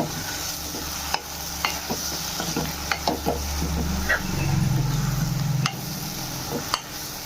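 Bitter gourd pieces coated in masala are stirred in a pan over a continuous frying sizzle, with sharp scraping and clinking ladle strokes at irregular intervals; nobody talks.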